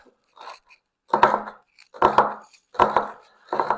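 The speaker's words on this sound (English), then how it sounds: "keeping my fingers safely out of the way of my knife. And then we just chop." A kitchen knife chops vegetables on a cutting board, four or five crisp close knocks in a steady rhythm, each with a double tap, with no talk.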